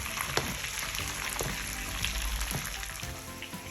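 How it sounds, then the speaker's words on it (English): Porterhouse steak sizzles steadily in a pan while herby garlic butter is spooned over it, a loud continuous frying hiss with faint clicks of the spoon and no talking. "we're going to take a spoon, tilt the pan, and just baste the steak with that beautiful herby garlic butter"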